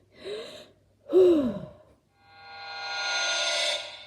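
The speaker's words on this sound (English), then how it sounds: "I take a deep breath" A character in a horror video game takes a deep breath, two sharp gasping inhales followed by a long, slow, airy exhale, close and clear with no talking.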